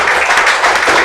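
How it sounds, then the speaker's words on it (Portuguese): Church congregation applauding during a worship service, a brief, dense wash of clapping from many hands at fairly close range. "Aplauda o Senhor Jesus."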